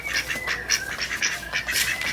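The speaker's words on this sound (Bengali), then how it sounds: "খুব সুন্দর লাগছে, দেখো সাদা হাঁস" White ducks quack nearby in a quick, continuous run of short nasal calls with no pauses, heard alone and with no talk.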